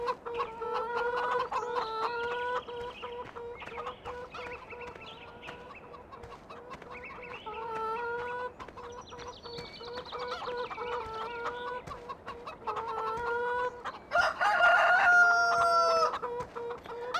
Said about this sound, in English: delete that rooster noise. Even better, probably all the chicken noises as well